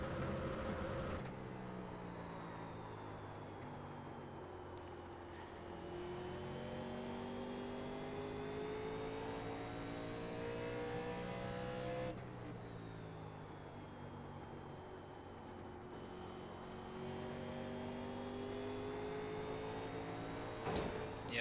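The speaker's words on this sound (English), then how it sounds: "Once you feel your car turning down, you can get on the throttle." NASCAR Legends race car engine in iRacing at Richmond, a steady simulated engine drone that climbs in pitch as the throttle comes on, drops at gear changes and climbs again, with no talking.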